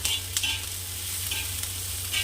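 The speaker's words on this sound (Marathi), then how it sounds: "याला छान थोडं डाग पडेपर्यंत असं परतून घ्यायचं आहे" Half green chillies stir-fry in a hot pan, giving a steady close sizzle with a few soft stirring scrapes throughout, no voices.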